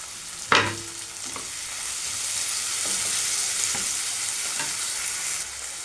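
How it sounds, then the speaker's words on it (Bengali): Chopped ginger and tomato fry in a pan for scrambled paneer. A sharp utensil clank opens a steady sizzle, broken by a few scraping stirs at close range. "এর মধ্যে আদা কুচি করে দিলাম এবং টমেটোটা দিয়ে দিলাম, দিয়ে একটু নাড়তে হবে।"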